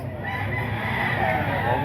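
A seven-month-old blue-legged rooster crows in a long, steady call lasting the whole stretch, close and fairly loud over a busy outdoor background.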